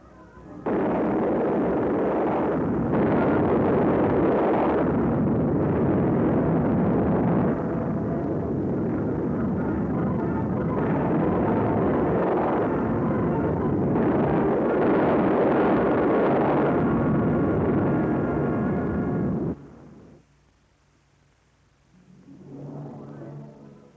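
An Operation Sandstone nuclear test detonation makes a long, loud, sustained roaring rumble that swells and churns for many seconds. It then cuts off abruptly, and a brief softer rumble follows.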